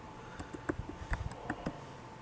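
Fingers typing a font name on a computer keyboard, a quick irregular run of soft, close key clicks with no talk.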